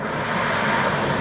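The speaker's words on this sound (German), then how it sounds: "Also sehr steile Anflüge mit diesem 21 Tonnen schweren Flugzeug" Noratlas N2501 transport aircraft, a 21-tonne twin-engine plane of about 4100 hp, on a steep landing approach at an airshow: a loud, steady engine drone with broad roaring noise, heard alone.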